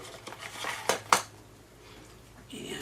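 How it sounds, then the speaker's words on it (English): Metal parts of a disassembled soldering iron frame and holder rattle and clink together in a package, with a couple of sharp close clanks and then quieter shuffling. "it should be a soldering iron frame and holder."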